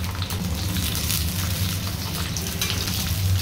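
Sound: chopped capsicum frying in hot oil

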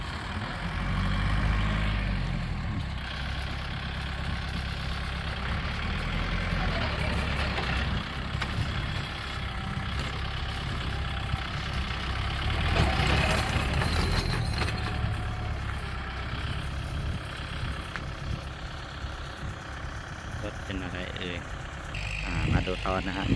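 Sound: tractor engine idling

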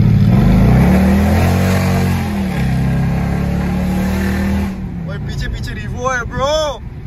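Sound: cars racing, Toyota Revo versus Mercedes CLS500

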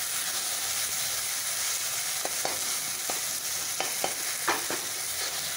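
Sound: tomato and potato masala cooking in a pan

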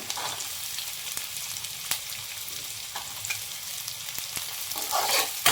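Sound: onion, carrot and beans frying in a pan

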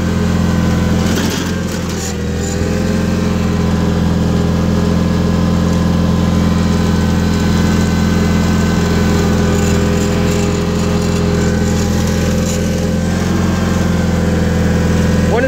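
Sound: 1987 John Deere 316 lawn tractor engine running

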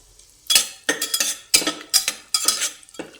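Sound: garlic frying in oil with cumin in pressure cooker

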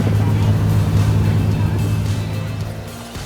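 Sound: motor boat setting off again after motor repair

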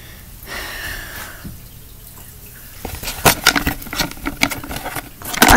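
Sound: Perler beads poured out of a cup

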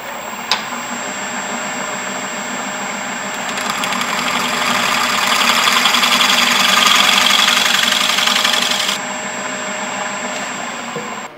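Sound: scraper on burl bowl spinning on wood lathe

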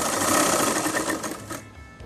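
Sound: sewing machine hemming a saree

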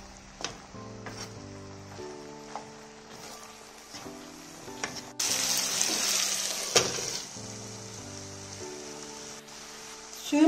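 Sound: water added to leftover pilaf in a hot pan, sizzling

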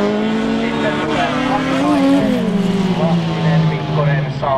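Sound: rallycross cars racing, including a Fiat

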